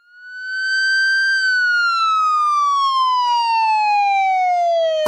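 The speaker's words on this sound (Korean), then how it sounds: "구급차가 도착했다." An ambulance siren wails loud and close, a single sustained tone that holds steady and then slowly glides downward in pitch, alone with no other sounds.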